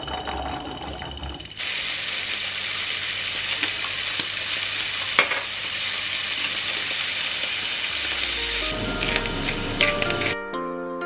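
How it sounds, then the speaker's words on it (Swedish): Chickpeas frying in a pan at home, a steady dense sizzle and crackle running close and continuous for most of the stretch, with no voices. "Och jag kommer att steka kikärtor och hacka upp massor med grönsaker."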